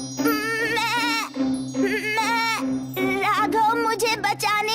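A goat shivering in the cold bleats loudly and close by, several long wavering calls in a row with short pauses between them.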